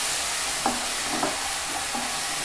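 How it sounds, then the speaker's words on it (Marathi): Green spice paste made with poha fries in oil for a mutton curry, a steady close sizzle broken by a few soft scrapes as it is stirred, and no voices. "तेही तेलावर चांगलं परतवून घ्यायचंय."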